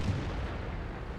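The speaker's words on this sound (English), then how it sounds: "There's a circle of 5 tanks around this guy blasting him." Tank cannon fire in the World of Tanks video game on the Sand River map: a single muffled, heavy blast at the start that quickly trails into a low rumble.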